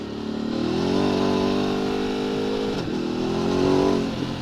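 Ducati Desert X adventure motorcycle accelerating hard over rocky terrain, its engine note rising in a revving climb, dipping briefly, then surging again close up with rattling ground noise underneath.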